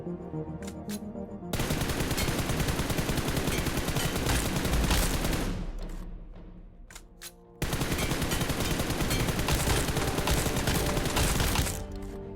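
Hipfire from an automatic weapon in the mobile shooter PUBG Mobile, with and without a laser sight: a few single shots, then two long, loud, continuous bursts of rapid gunfire separated by a short pause.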